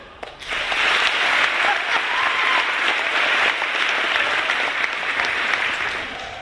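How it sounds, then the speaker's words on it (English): After a brief quiet start, a big audience bursts into sustained clapping that holds steady and begins tapering off near the end. "By a round of applause, how many people believe it?"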